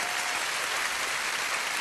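A cabaret show audience breaks into steady, full applause, a dense, even sheet of clapping that carries through the whole short moment without talk over it.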